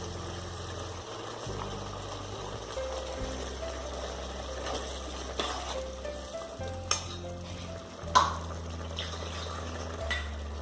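Ground roasted coconut paste with coriander and chilli powder going into a simmering Kerala chickpea curry, with steady sizzling and bubbling under soft scraping stirs and a few sharper clinks near the end.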